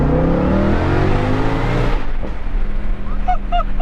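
A Ford Mustang GTD engine revving hard under acceleration, a loud rising roar that cuts off into crackling exhaust pops and burbles heard from inside the car.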